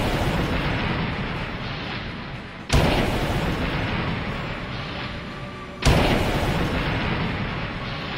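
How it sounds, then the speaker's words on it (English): Two heavy cannon booms fire as signals at Fort Schuyler, spaced about three seconds apart, each a sharp close blast over a loud continuous rumble of battle noise. "suddenly the signals fired from the cannons at Fort Schuyler were finally heard."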